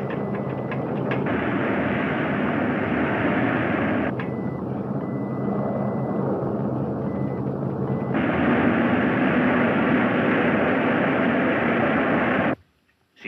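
In a 1946 crime mystery film, an airplane in flight drones steadily and loudly, a dense unbroken engine roar that shifts slightly in tone midway and cuts off abruptly near the end.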